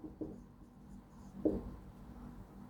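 Pen on paper while writing out trigonometry during a maths lesson, two faint, brief scratchy strokes in a quiet room, close and soft.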